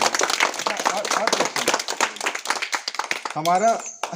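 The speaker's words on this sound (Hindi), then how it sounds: "ताली बजाओगे?" Children in a class clap their hands, a busy patter of many quick claps, with a voice rising near the end.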